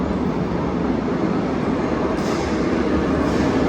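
A Lisbon metro train runs into the airport station with a loud, steady rumble and roar of wheels on rail, continuous and close throughout.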